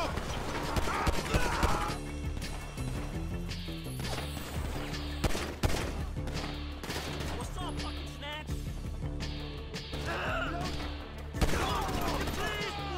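Gunfight in the game GTA V: dense, chaotic gunfire with rapid shots and bursts, mixed with crashes and impacts, while voices shout and talk over the shooting.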